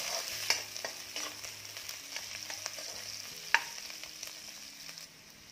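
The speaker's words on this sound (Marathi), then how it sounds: "आता हे छान रंग बदलेपर्यंत भाजून घेऊया." Onion and garlic fry in a pan for a Malvani egg curry while being stirred, making a close sizzle with repeated scraping taps of the spoon and one sharp clink midway.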